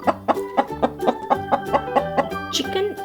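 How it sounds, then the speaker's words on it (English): Chicken clucking on a farm in a rhythmic run of about a dozen short, close, fairly loud calls, with a brighter squawk near the end and no talking. "Chicken."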